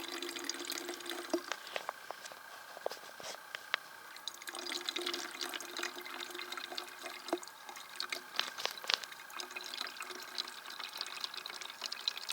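Water trickling and dripping steadily through a LifeStraw Flex filter, a close, faint, continuous flow with scattered small drips and no talking.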